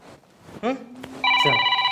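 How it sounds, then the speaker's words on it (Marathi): A brief voice comes first, then a telephone starts ringing with a bright, electronic tone, loud and close. "आला मला पाहुण्याचा फोन आला वाटतं"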